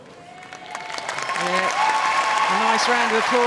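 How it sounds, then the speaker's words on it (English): Applause rises from a crowd at a netball World Cup play-off between Samoa and Fiji, swelling over a few seconds into steady clapping while voices talk over it. "nice round of applause."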